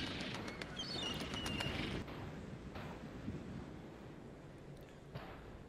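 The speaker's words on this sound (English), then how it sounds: "Some funky birds." Birdsong in a video game, bright chirps and tweets over a steady ambient wash, loudest in the first two seconds and then fading into the background of a lighthouse setting.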